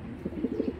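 A racing pigeon coos softly in a few short, throaty pulses, a low rounded burble repeating four or five times at close range over a quiet background hum.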